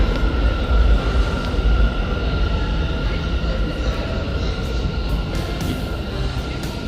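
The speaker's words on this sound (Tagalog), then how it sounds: "Hintayin natin yung train." Subway train pulling into an underground station on a transfer between the No. 1 and E lines, a loud, steady rumbling roar with rail noise filling the platform throughout, no clear talking.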